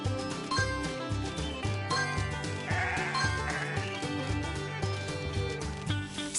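Cartoon sheep in a PAW Patrol video game bleat repeatedly in a busy chorus of overlapping baas, loud and continuous over bouncy game music.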